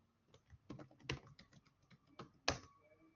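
Keys tapped on a computer keyboard to enter a password, a short burst of quiet, close clicks with two sharper, louder key presses standing out, and no voices.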